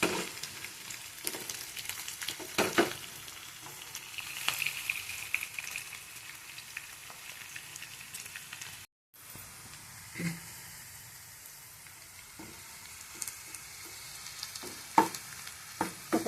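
Cumin, onion and garlic fry in a pan with a steady close sizzle, broken by scattered clicks and scrapes of stirring and a short dropout midway.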